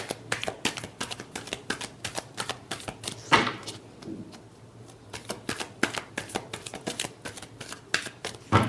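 Tarot cards being shuffled by hand, a dense run of crisp riffling clicks and flutters, close and fairly quiet, with a brief pause midway before the rapid card slaps resume.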